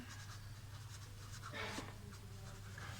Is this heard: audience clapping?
no